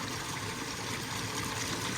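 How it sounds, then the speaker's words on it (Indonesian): A fountain splashes into a newly built koi pond filter, a steady dense rush of falling water, loud and continuous without a break. "Kalau di sini itu bukan air terjun ya. Ini air mancur namanya ya."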